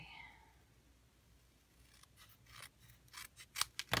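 Scissors snip through card paper in a few quick, crisp cuts that build toward the end, close and fairly quiet against a soft room background.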